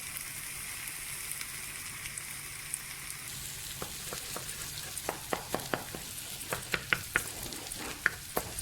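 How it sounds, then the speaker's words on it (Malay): Egg hisses in a hot wok as it is stir-fried with air-dried noodles for chicken chow mein. A soft, steady sizzle is broken by sharp clinks and scrapes of stirring that grow more frequent toward the end, with no talking. "Lepas tu kita akan masukkan telur dan kita akan kacau"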